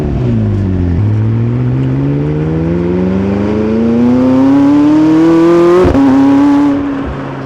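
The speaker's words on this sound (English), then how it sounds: "That car audio and exhaust." A McLaren 600LT sports car with a top-mounted exhaust accelerates in one long rising engine and exhaust roar, then shifts and keeps pulling, loud and close, before easing off at the end.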